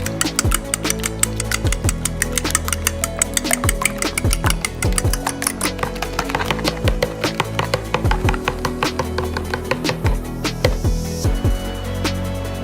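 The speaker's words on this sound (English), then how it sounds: "Mix and stir thoroughly." Cake batter with butter, fresh milk and egg is stirred and mixed in a small bowl, a close, continuous run of rapid tapping clicks and scrapes with background music throughout.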